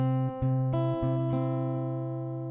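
An acoustic guitar plays a short passage: a few plucked notes ring out in quick succession and sustain, fading slowly on their own.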